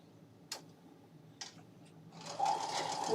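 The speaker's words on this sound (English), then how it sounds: "Just like Donna Jordan, I'm chain piecing these together, and I'm going to actually try and keep them attached to each other" A sewing machine chain pieces tiny 1.5-inch quilt squares: a couple of soft isolated clicks, then the needle motor whirs up into a quick, steady, close stitching run.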